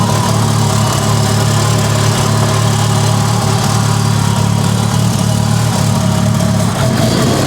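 A Mitsubishi Evo 8 engine, just started after sitting abandoned, idles steadily and loudly nearby with a constant low droning rumble and no pauses or voices over it.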